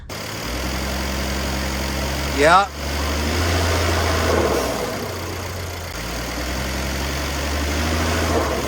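An old sheriff car engine with broken motor mounts idles with a low, uneven rumble, broken by a sudden rising squeal and a knock partway through; a voice speaks briefly.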